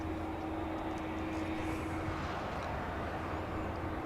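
A Turkish Airlines jet taxiing at Los Angeles International Airport, heard as a steady, continuous engine rumble with a faint sustained tone, even in level throughout and at moderate distance.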